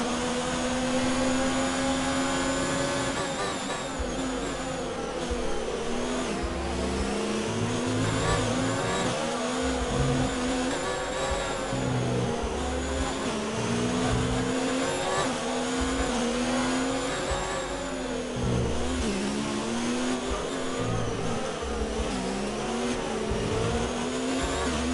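A Ferrari Formula 1 car engine screams through gear changes in F1 2019 at Spain, its high-pitched whine rising and dropping repeatedly as the car accelerates and brakes, loud and steady for the whole stretch with no talk.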